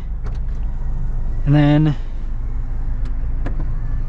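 A 2023 Mazda Miata RF Grand Touring with a manual gearbox operates its power retractable hardtop roof: a brief electric motor whine rises about midway over steady background hum, with a person speaking briefly.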